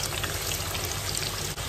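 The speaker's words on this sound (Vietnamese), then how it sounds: "Chiên cà rốt." Sliced carrots fry in hot oil in a home kitchen, giving a steady, close crackling sizzle that runs on evenly without talk.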